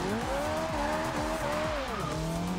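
A Ferrari 458 Italia in Forza Horizon 2 drives steadily, its engine note loud and continuous with pitch rising and dipping through gear changes, and tires squealing along the way.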